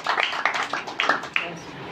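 A church congregation at a Hindi-language prayer service claps their hands in a short run of fairly even claps, with voices sounding over them.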